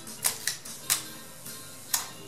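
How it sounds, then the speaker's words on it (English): Several crisp, faint mechanical clicks at irregular intervals from the shutter of a Leica M2 film camera, against a quiet background. "And you have the shutter"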